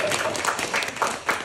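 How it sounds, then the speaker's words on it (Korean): A church congregation claps steadily during a Sunday service, a warm burst of applause with a few louder individual claps. "유튜브로 보고 계신 우리 장로님께 우리 격려 박수 드립시다"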